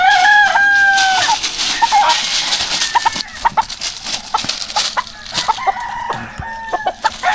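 Backyard farm chickens and roosters in the Philippines, resting under a mango tree, crow loudly up close, then break into scattered clucks and short calls.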